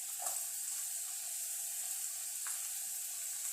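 Crushed garlic frying in hot oil for a South Indian rasam and beans poriyal, a steady faint sizzle with a couple of soft stirring touches, no voices.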